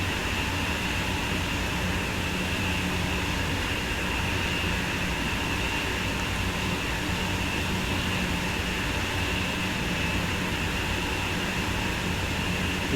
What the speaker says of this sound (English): Look how long that train is.